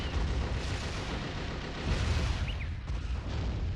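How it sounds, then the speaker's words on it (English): Rockets launching and blasting in the car-combat game Twisted Metal, a dense, continuous roar of booming explosions and rumbling fire that swells and surges throughout. "one day those rockets will actually hit somebody"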